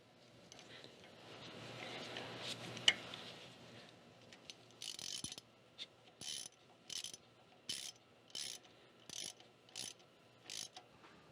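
A ratchet wrench tightens a 9/16-head, 3/8-inch bolt on a tractor PTO mounting plate, giving a faint run of about eight evenly spaced clicking pulls after some quiet shuffling.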